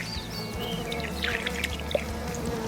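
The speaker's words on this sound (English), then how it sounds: "I'm going to give it a final little water with what's left in my bucket." Water is poured from a bucket onto a newly planted garden plant outdoors, a steady splashing pour with faint birdsong and insect chirps in the background.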